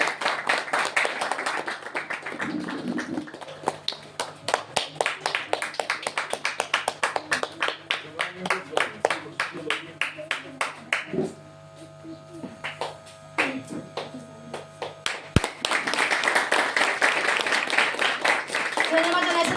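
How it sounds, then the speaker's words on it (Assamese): Clapping at an honouring ceremony for chief guests, at first a dense burst of applause, then an uneven rhythmic patter of fewer hands with a lull in the middle before full applause swells again near the end, with talk mixed in. "সকলোৱে হাত চাপৰি কৰিলে ভাল লাগিব।"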